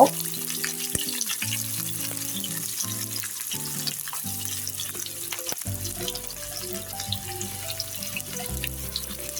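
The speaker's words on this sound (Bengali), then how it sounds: "এখানে একটা ফ্রাই প্যান বসিয়ে দিলাম, দিয়ে দিব এখন পরিমাপ মতো তেল দিয়েছি। এখন দিয়ে দিব পেঁয়াজ আর রসুনগুলি" Onion and garlic fry in oil in a frying pan with a steady, close sizzle and crackle that runs without a break, while soft tonal music plays underneath.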